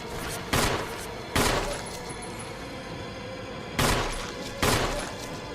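Handgun fire in the video game Resident Evil HD Remastered: four loud, sharp shots, one pair close together and another pair a couple of seconds later, each with a short ringing tail over quiet game ambience.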